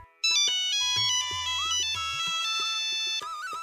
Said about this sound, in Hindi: फिर फोन आया